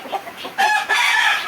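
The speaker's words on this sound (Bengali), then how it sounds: "দেখতে পাচ্ছেন এগুলো টাইগার মুরগ" Tiger breed chickens, heavy birds of about 4 kg each, cluck and squawk in a farmyard, with soft scattered calls giving way to louder, sustained crowing-like cries close by.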